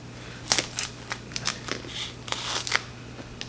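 Scissors snipping plastic basket material for a fish time-out basket, a series of short crisp cuts and rustles, close and moderately quiet with no talking.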